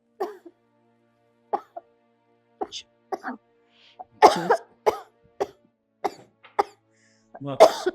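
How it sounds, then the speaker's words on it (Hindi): An elderly woman coughs repeatedly in short, harsh bursts with brief pauses between them, close by and quite loud, with some throat clearing mixed in. "माँ को खांसी उठ रही है"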